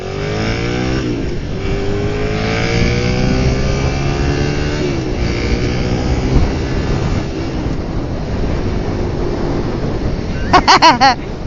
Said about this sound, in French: J'entends ta moto quoi.